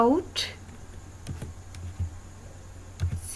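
Computer keyboard typing of C++ code for a do-while loop tutorial, a few close, crisp key clicks in short bursts while someone speaks.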